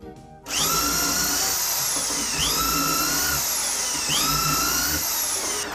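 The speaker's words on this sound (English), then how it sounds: "Put a depth stop on the drill so that the holes are drilled the right length." A power drill fitted with a depth stop bores holes into a wooden rail held in a jig, a loud, steady whine that starts abruptly and dips in pitch as each hole is drilled, close and alone.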